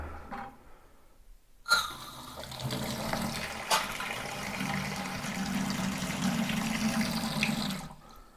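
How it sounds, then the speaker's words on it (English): Water from a tap that has just been turned on at a work site gushes with a sudden onset and keeps flowing steadily for about six seconds before it cuts off, loud and close by. "Okay, time to turn the water on. Okay, the water's on."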